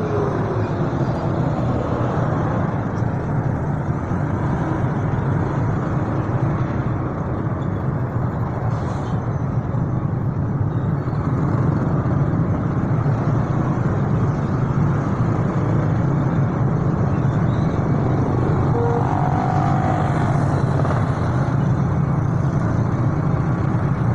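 Dense road traffic in a jam in Surabaya, heard from a motorcycle: a steady, loud wash of car, bus and truck engines idling and creeping along nearby, continuous throughout with no talk.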